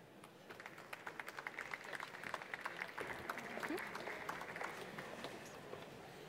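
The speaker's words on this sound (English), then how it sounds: "Give an applause, please, to our panel" A conference audience at a quantum sensing panel starts with scattered, distinct claps that build into fuller applause as the panelists come to the stage, heard at a modest distance with faint voices underneath.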